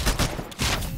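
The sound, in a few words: smart pistol firing in the video game Titanfall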